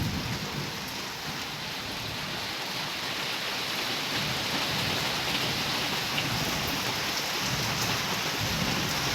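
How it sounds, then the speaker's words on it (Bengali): Heavy rain pours down steadily at night in a dense, unbroken hiss, with a low rumble of thunder beneath it. "কত বৃষ্টিটা কমছে, দেখা যাক বৃষ্টিগুলা কতক্ষণ হয়"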